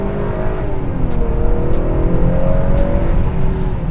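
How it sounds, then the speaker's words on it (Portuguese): A 2019 Honda Accord sedan's turbo engine in sport mode, a steady close engine drone with a faint rising whistle riding on top of it throughout. "Não sei se vocês conseguem escutar, mas o turbo assovia mais."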